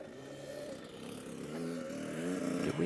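A Yamaha YZ65 dirt bike engine revs through a wheelie, its pitch climbing in repeated surging bursts that grow louder toward the end, heard from a moderate distance outdoors.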